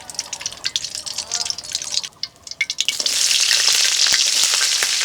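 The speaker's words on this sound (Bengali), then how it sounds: "ভাজির জন্য তেল দিয়ে দিলাম" Oil poured into a pan for frying vegetables in a village kitchen, with scattered drips and clinks at first, then a sudden, steady hiss of sizzling oil that carries on close and loud.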